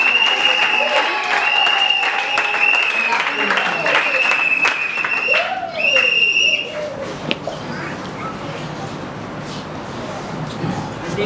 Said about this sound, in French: Oui, applaudissez très fort pour